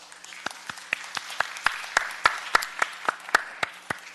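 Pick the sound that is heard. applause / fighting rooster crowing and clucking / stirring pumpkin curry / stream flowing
applause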